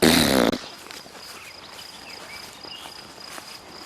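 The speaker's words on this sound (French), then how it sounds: "Et là-bas, quelque part, il y a un grillon." Outdoors among clumps of trees, a cricket keeps up a faint, steady high chirp after a loud, brief rustling burst at the start, with light shuffling sounds underneath.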